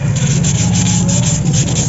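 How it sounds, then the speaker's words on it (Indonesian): Sandpaper rubs steadily back and forth against the painted frame of a Turanza MTB bicycle to strip paint for an OXO headset bearing, a loud, close, continuous gritty scraping with a quick stroke rhythm. "Nah, kita coba amplas sedikit supaya catnya ini hilang."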